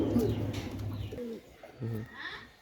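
Pakistani teddy pigeons coo softly in a couple of low, throaty bursts, with faint background murmur and some chirps; fairly quiet and close by.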